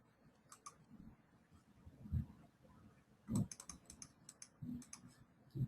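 Computer mouse clicks while working in fatigue analysis software, a handful of sharp, isolated clicks spaced irregularly over several seconds, quiet and close, with a faint low background hum between them.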